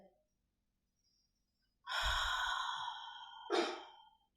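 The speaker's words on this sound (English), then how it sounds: "Take a deep breath." A deep, slow exhale during a guided breathing exercise for calm and communication practice, a long breathy sigh lasting a couple of seconds followed by a shorter second breath, close and clear in a quiet room.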